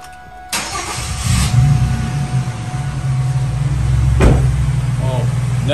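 A Chevy Venture minivan engine cranks and catches, then settles into a steady, loud idle close by, with a brief clunk partway through.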